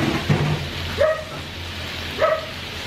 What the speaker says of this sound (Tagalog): Maingay ang mga aso.